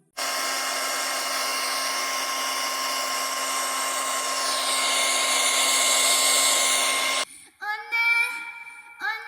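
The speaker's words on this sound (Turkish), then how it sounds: "saçımı kurut" A hair dryer blows hair dry in a steady, loud whirring drone that shifts pitch midway, then cuts off abruptly, followed by brief animated voices.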